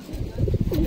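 Racing pigeons coo in low, throaty warbles, close by, with a soft murmur of background noise.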